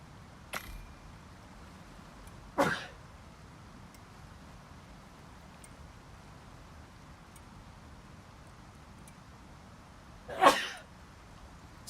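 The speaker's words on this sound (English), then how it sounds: "got a sneeze coming on." A person sneezes three times in a quiet room, with sharp, close bursts spaced irregularly across a soft background hiss.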